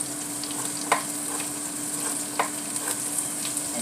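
Sliced homegrown radish sizzles in a stir-fry pan with a steady frying hiss and a few sharp stirring scrapes, close and alone with no talking.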